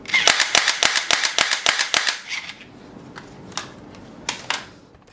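A 2011 JLS G18 toy gun fires in full auto, a rapid even string of about a dozen loud, sharp snapping shots lasting two seconds, followed by a few scattered quieter clicks and handling noises.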